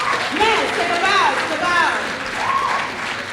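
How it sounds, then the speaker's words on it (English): An audience gives a speaker a round of applause at a diversity and empowerment event, with steady clapping mixed with loud cheering and whooping voices close by. "one more time, round of applause for Miss Deidra Bibb"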